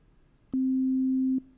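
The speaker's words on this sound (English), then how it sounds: "it's just going to be a sine wave" A steady pure sine wave tone from a digital sampler holds at one pitch for under a second, starting and stopping abruptly against near silence.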